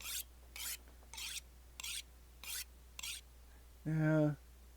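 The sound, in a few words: sharpening a knife in video game The Long Dark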